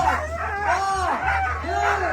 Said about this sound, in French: Je vous laisse avec le chant des chiens.